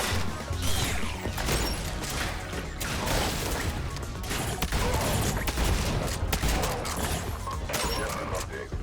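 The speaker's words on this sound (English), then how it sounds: "There's still a little bit of kick to the shotgun." Shotgun fire in the video game Sentry: repeated blasts buried in dense, continuous combat noise with crashes and mechanical clatter, while a voice talks over the action.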